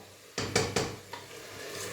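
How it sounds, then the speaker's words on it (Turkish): Meat frying with tomato paste in a cooking pot, heard as a few sharp scraping stirs of a utensil against the pot, then a quieter sizzle carrying on underneath. "Birazcık da böyle salçasıyla bir kavrulsun."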